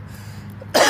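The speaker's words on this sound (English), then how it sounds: "I have some kind of a cough" A person coughs and clears their throat once, a sudden loud burst at the end after a stretch of low background hum.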